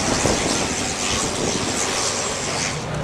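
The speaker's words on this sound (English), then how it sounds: "now we're going to get those airplanes up in the air." At an outdoor air show, airplanes, including vintage cargo planes, roar overhead in a broad, steady engine rumble mixed with wind-like noise, fairly loud and continuous with no talk.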